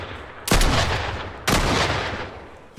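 Pistol fire in the video game Fortnite: two loud, punchy gunshots about a second apart, each with a booming decaying tail, a third shot starting at the very end, with no talk over them.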